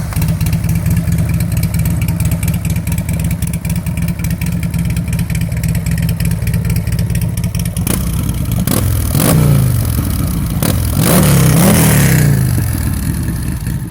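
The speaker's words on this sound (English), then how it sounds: "Let's get a sound clip of the X1." A Buell X1 motorcycle engine idles with a steady loud rumble, then is blipped several times in sharp revving bursts that rise and fall, close by and alone with no talk.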